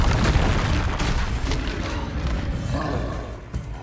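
In the Hogwarts Legacy video game, a Confringo explosive spell is cast as a loud, deep boom with a rolling roar that fades over a few seconds, ending in a small thud.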